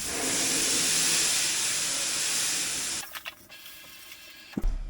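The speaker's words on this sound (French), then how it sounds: "la poêle elle est chaude, je vais aller la déglacer direct" A hot frying pan deglazed, loud hissing burst of steam that holds for about three seconds, then cuts off into quieter clinks and scrapes and a final thump.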